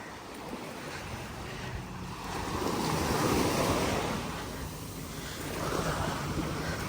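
Ocean waves rushing up the shore at Koh Samet island, a continuous wash of surf that swells and recedes in soft surges, close by, with light wind noise on the microphone.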